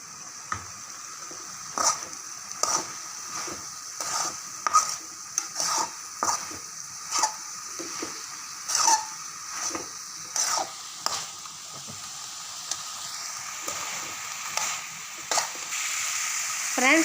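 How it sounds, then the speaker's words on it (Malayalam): Turkey berries sauté in oil with a constant, close sizzle, and a utensil scrapes and stirs them in a pan in regular strokes that repeat throughout. "ഇനി നമുക്ക് ഇതിലേക്ക് ശകലം എണ്ണ ഒഴിച്ചു കൊടുത്ത് ഒന്ന് മൂപ്പിച്ചെടുക്കാം."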